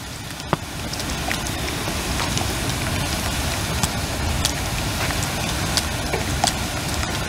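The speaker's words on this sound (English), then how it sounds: "Listen to it boil too. That sound is a sound I love to hear when I'm making maple syrup." Maple sap boils hard in an evaporator pan, making a continuous dense bubbling roar with scattered sharp pops and crackles. It sounds close and steady, with no talking.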